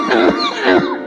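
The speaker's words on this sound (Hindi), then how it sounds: "अब्बे ने खांस खांस के पूरा घर ही सर पे उठाया हुआ है" An elderly man coughs twice in quick succession, rough and throaty bursts heard up close, with a strained, voiced quality between the hacks.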